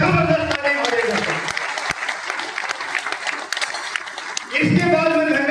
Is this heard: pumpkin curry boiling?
no